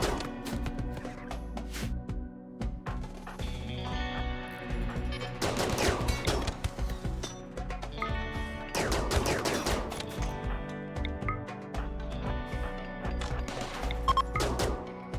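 Ship-mounted turrets fire in the RimWorld Odyssey game: dense, overlapping volleys of gunfire with sharp cracks and heavy bursts clustered in several waves, loud and continuous, with no talk over them.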